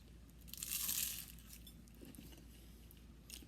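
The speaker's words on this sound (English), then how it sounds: "Did you hear that crunchy crispiness?" A single crisp crunch as someone bites into flaky baklava, a short close bite with soft chewing afterward at low level.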